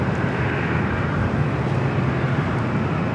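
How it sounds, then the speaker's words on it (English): A British Airways airliner arriving at LAX on the north side, heard as a steady, broad jet roar that holds at an even level throughout with no voices. "Second British Airways flight. Both arriving here on the north side here today so far."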